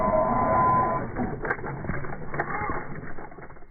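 A ready-to-run RC car that takes a 3S battery drives across the roof of a Toyota Prius, a loud whirring and rattling motor noise, steady at first, then wavering as it moves.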